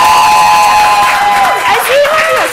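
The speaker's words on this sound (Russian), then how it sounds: "наши аплодисменты" Studio audience on a televised game show applauds and cheers for a finalist, a dense wash of clapping and shouts under a host's speech and music.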